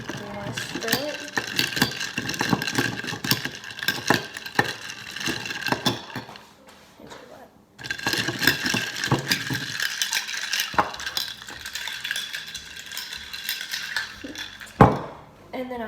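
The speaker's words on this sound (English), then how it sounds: "You grab metal straw. You want to stir it." Metal straw stirring chai tea in a cup, a busy run of quick clinking and scraping against the sides, close and fairly loud, with a short pause midway and a sharper clink near the end.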